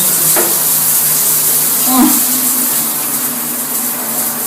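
Tap water runs steadily to rinse a face mask off skin, a close, even hiss that continues unbroken with no voices over it.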